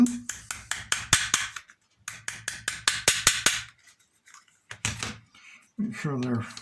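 Pins are tapped into an M17 CO2 air gun with a rapid series of sharp metallic knocks in two close bursts, followed by a few more taps and a voice.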